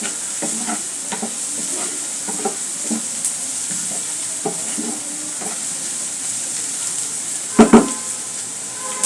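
Garlic fries in a pan for a taro-leaf mash, giving a steady close sizzle with scattered soft spatula scrapes and a sharper clatter of stirring near the end, with no voices.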